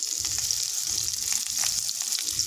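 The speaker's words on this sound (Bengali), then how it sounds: "কড়াইতে তেল দিয়ে পাঁচ ফোড়ন দিয়ে আর একটা শুকনো লঙ্কা দিয়ে আর আমটাকে ঢেলে দিলাম" Raw mango pieces frying in oil with five-spice seeds and a dried red chili for a sweet pickle: a steady, bright hiss of frying, fairly close and continuous, with faint stirring underneath and no talking.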